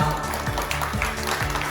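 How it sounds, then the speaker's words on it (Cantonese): Applause from a crowd at a Hong Kong fighting-tournament prize ceremony as a school girls' team comes up to collect a championship award. Steady clapping runs through the whole moment, with voices over it. "俾啲掌聲。"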